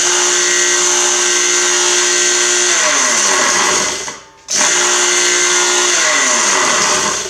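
A 3450 RPM water pump in an Aqua Blast cabinet runs with a loud, steady motor whine, cuts out briefly as it winds down, then restarts at once to full speed.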